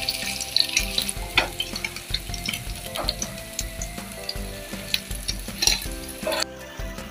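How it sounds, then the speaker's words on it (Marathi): Bombay duck (bombil) fish frying in a pan, a steady crackling sizzle with scattered sharp pops and spatters throughout, close and fairly loud, with no talking. "आता दुसऱ्या साईडने असेच आपण खरपूस चांगले भाजून घ्यायचे."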